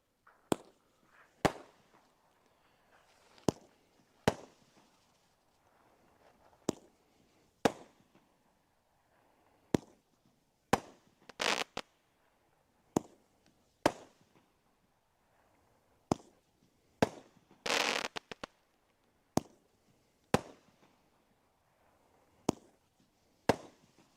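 A 69-shot firework cake called 3 minute time bomb, firing sharp single bangs at irregular intervals of one to two seconds, with a couple of short crackling bursts, heard from a distance against a quiet background.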